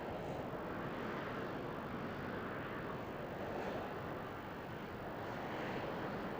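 A jet aircraft hovering on four columns of jet thrust at the RIAT 2000 air show at RAF Cottesmore, a steady, dense, roaring engine noise that stays constant throughout.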